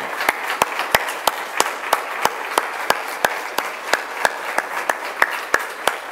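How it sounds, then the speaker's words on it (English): Applause for a school board at a district gathering, sparse, loud individual claps in a roughly steady rhythm over a light wash of further clapping. "join me with some applause to our school board"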